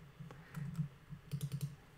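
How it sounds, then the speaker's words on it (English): Keyboard typing at a computer while entering code in a Swift programming editor: a few scattered soft clicks early, then a quick run of four or five keystrokes near the end, faint and close against a low background hum, with no talking. "As I type in things,"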